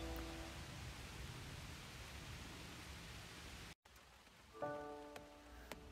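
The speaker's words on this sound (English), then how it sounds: "the rain started in earnest, and it was a downpour for about 10 minutes" Steady hiss of heavy rain pouring down, briefly cut off, then continuing with faint tonal hum underneath.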